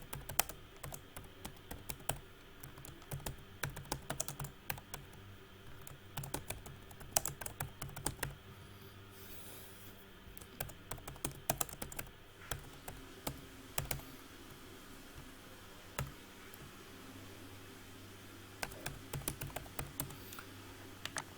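Student names being typed on a computer keyboard into an Excel attendance sheet give a steady stream of close, light key clicks in irregular bursts, with a short pause near the end.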